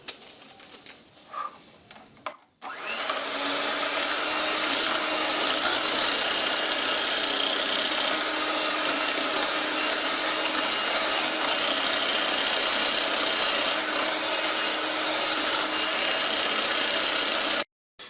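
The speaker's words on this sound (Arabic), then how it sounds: "انا غادي نبقى نضيف الدقيق شويه بشويه وانا كنخلط" An electric mixer whirs steadily through cake batter as flour is added a little at a time, starting after a short quiet pause and running as a constant loud buzzing drone before cutting off at the very end.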